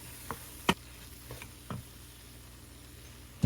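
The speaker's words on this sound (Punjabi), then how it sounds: "ਥੋੜਾ ਥੋੜਾ ਕਰਕੇ ਵੇਸਣ ਪਾਵਾਂਗੇ ਨਾਲ ਦੀ ਨਾਲ ਇਹਨੂੰ ਮਿਕਸ ਕਰਾਂਗੇ" Gram flour is stirred into a pan over a low flame while making onion and besan sabji, with a quiet steady sizzle and a few sharp scrapes and knocks of the spoon.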